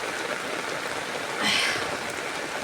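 Steady rain falls over floodwater swamping a garden in a Tamil village, a soft continuous hiss with a brief brighter splashing swell midway.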